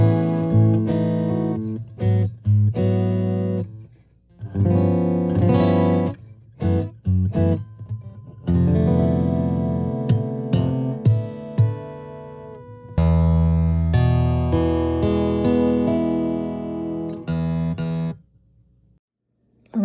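Traveler Ultra Light travel guitar amplified through a newly installed preamp: strummed chords and picked phrases in bursts separated by short silences, loud and close, ending in a brief quiet pause.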